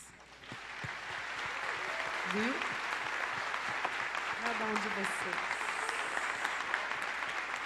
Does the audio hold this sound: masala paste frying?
no